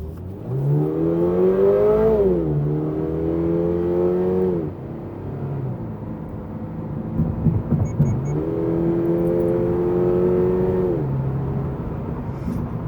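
A 2022 Toyota GR86 sports car with a six-speed gearbox accelerating in normal mode, its engine note climbing in two strong revving pulls with a dip and gear change between them, loud and close from inside the car, with no talking.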